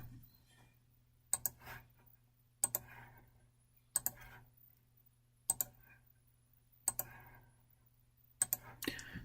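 Computer mouse clicks and key presses during CAD drafting come in short double-click pairs at regular intervals, close and quiet over a low steady hum, with faint talk in between.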